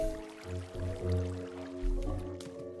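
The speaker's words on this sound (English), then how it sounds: "Water elevator." Bubbling water from a Minecraft water elevator, a low gurgling liquid churn with soft squishy pops rising and falling steadily, fairly close and alone for a few seconds.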